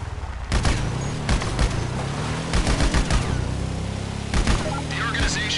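Machine gun fire in GTA 5 during a vehicle mission, several loud, close volleys of rapid shots over a steady engine drone, with no talk.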